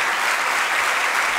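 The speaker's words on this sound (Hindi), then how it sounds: "समर्थन करिए तालियां बजा करके" Audience applause at a Jain religious discourse at the Nandishwar Dweep Jinalaya in Bhopal: a steady, dense burst of many hands clapping at once, loud and even throughout.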